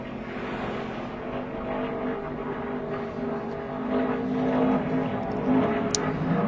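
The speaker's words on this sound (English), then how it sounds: "Good lap for that number 9 truck." The number 9 NASCAR Craftsman Truck runs a qualifying lap at Daytona, its engine a loud, steady roar that swells gradually and stays strong throughout.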